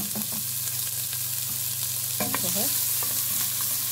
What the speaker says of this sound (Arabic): انا حطيت بقى معلقه سمنه اهو. هحط بقى البصل